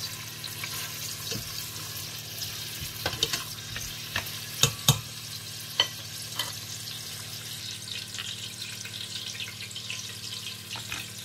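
Onions fry in a pan with a soft continuous sizzle, broken by a few sharp utensil clicks and knocks partway through, close and alone.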